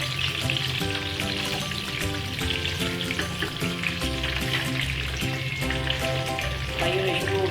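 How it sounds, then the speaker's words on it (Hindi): Stuffed eggplants shallow frying in oil over a normal flame, giving a continuous dense sizzle with occasional crackles that holds steady throughout, close and alone with no talk. "फ्राई होने शुरू हो गए नॉर्मल सी आंच पे।"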